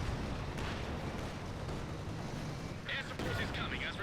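Battle explosions and artillery booms from Company of Heroes 2, a 4v4 match on the Port of Hamburg map, rumbling continuously under a dense wash of combat noise, with brief chatter near the end.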